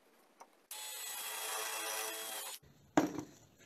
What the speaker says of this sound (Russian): пробуем его просверлить обычным сверлом по металлу